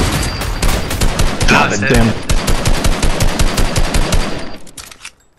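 Rapid automatic gunfire in a shooter video game, a dense, loud string of close shots that fades out near the end, with a man swearing briefly partway through.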